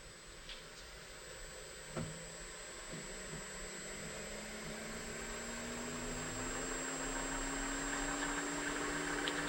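A Harvey T60S wood lathe with a servo motor runs up toward 2000 rpm as a quiet, faint hum whose tone climbs slowly over steady background hiss, with a couple of small knocks.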